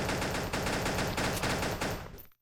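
Rapid burst of gunfire in the mobile shooter Pixel Gun 3D, dense repeated shots filling nearly the whole stretch loudly before cutting off abruptly; no voice.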